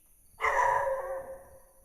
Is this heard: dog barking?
yes